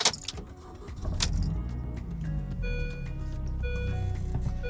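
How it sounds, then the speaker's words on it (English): A car ignition switching on, with a short click and starting noise, then a steady low hum and electronic chimes as the in-car CarPlay system powers up, all close and clear. "So I'll turn the ignition on."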